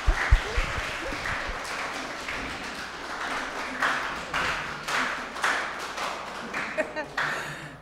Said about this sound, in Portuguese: Merece aplausos, não merece,